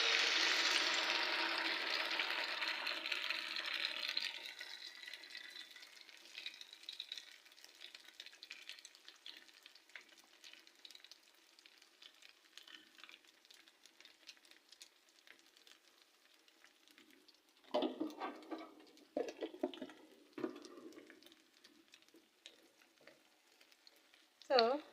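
Beaten egg mixture poured into a heated pan for a basic omelette, giving a loud broad sizzle at first that settles into a steady quieter frying hiss, with brief clatters of a utensil stirring near the end.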